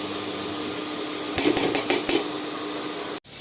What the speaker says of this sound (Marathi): असं गूळ मिक्स होईपर्यंतच हलवून घ्यायचं